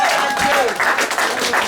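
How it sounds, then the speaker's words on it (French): Church congregation applauding together after a call to praise, steady dense clapping throughout with a sung or spoken tone briefly audible under it. "Applaudissons pour le Seigneur."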